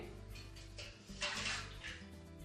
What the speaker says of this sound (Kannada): ಈಗ ಇದಕ್ಕೆ ಒಂದು ಲೋಟ ನೀರು ಹಾಕೋ